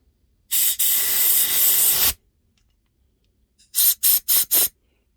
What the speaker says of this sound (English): we'll see if we can't blow some compressed air through here and see if it comes out this way